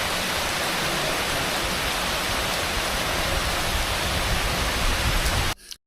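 Heavy, steady rain pours down as a dense, continuous hiss that stays loud and even throughout, then cuts off abruptly just before the end, with no voices present.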